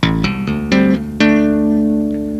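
Electric guitar tapping passage of thumb slaps and double-stop hammer-ons: five or six sharp, bright plucked attacks in quick succession, each ringing into the next, the last note sustaining, close and loud with no talking.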